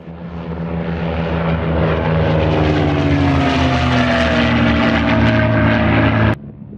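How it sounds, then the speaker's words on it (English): A World War II P-51 Mustang fighter plane arrives at an anniversary display, its loud propeller engine droning steadily close by with a slowly falling pitch before cutting off abruptly near the end. "on the day of our interview, Jack's P51 Mustang arrived in grand style"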